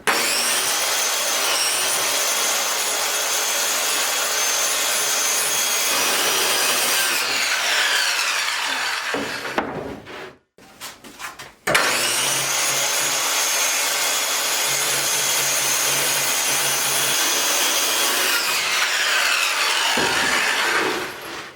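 Plywood is sawn into 16-inch strips, two long loud passes of a continuous rasping saw with a short clattering break between them, close and with nobody talking.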